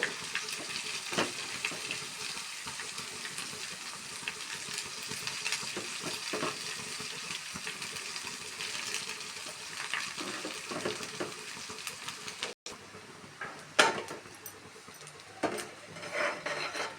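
Rice stir-fried in a pan for Telugu-style pepper rice, with a steady close sizzle and scraping stirs throughout, a brief sharp clatter near the end.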